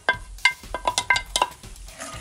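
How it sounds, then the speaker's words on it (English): A spoon stirs sauce mix into onions and peppers cooking in a pan for tacos, about eight sharp metallic clinks against the pan in a quick uneven rhythm, close and clear, with a soft sizzle underneath and no talk. "Give it a good stir."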